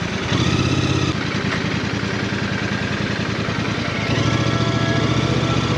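A Royal Enfield Bear motorcycle being ridden: a steady, loud engine drone with a low throbbing pulse runs throughout, and no voices are heard.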